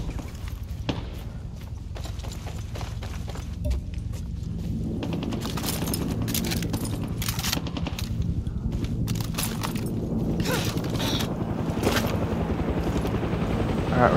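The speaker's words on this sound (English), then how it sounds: "Where's the chopper?" Helicopter flying in the video game Far Cry 6, a steady low rotor drone running throughout amid game effects, footsteps and distant gunfire, fairly loud and continuous.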